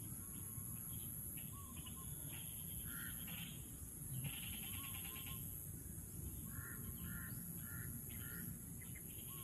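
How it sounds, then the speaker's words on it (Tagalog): Several crows caw repeatedly in the distance over steady outdoor background noise, with scattered harsh calls coming in short clusters. "Dito talaga yung mga uwak tol."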